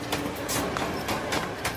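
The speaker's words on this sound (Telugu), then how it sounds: "నాన్న ట్రైన్ వచ్చినట్టుంది" An arriving train clatters past in a rhythmic series of broadband bursts, roughly a few per second, moderately loud and close, with no speech over it.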